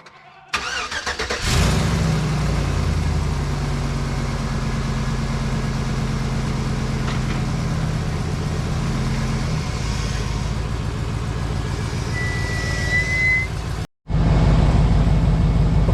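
An old beat-up farm truck's engine cranks and catches, then runs at a steady, loud, rumbling idle close by for over ten seconds; it cuts out briefly near the end before roaring back.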